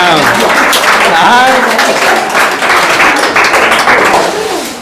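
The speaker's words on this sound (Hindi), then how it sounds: "हाँ अंदर से नहीं बजा लेके ताली बजाइए।" Students clapping at a school test results gathering, a loud, dense spatter of applause running throughout with voices talking over it.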